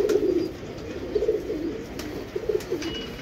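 A golden female pigeon coos softly in repeated low, throaty bursts, three or four rolling calls spaced about a second apart, close by against faint background noise.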